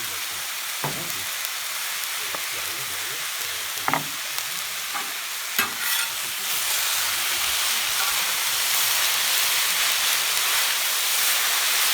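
Tomatoes sizzle and steam on a hot plancha for grilled tuna with sauce vierge, with scattered stirring clicks early and a steady broadband frying hiss swelling louder after the midpoint, no voices.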